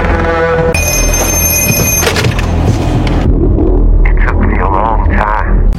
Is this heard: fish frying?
no